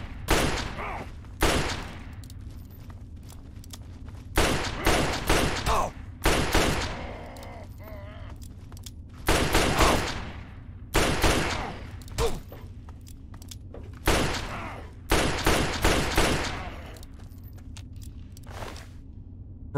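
Bursts of gunfire from the video game Fallout 3 arrive in repeated loud volleys spaced a second or two apart, over a steady low background hum, with no talking.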